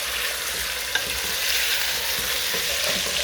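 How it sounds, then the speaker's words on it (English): Chicken rice frying in a pan while being stirred, a steady loud sizzle with scraping from the spoon and a sharp clink near the start, no talking. "I'm going to stir it up"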